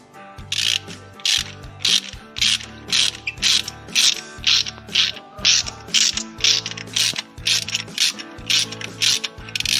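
A ratchet wrench clicks in rapid bursts while loosening a motorcycle spark plug, each short run of pawl clicks separated by a brief pause, close and crisp.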